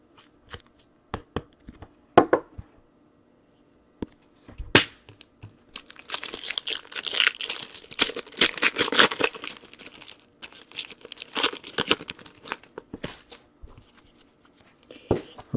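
Packs of 2017-18 Upper Deck Series 1 hockey cards are torn open during a case break, with a few sharp rips followed by a long stretch of dense crinkling and foil tearing close up.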